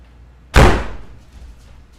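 Door slamming shut once, close and loud, with a sharp bang that decays into a short reverberant tail in a quiet room.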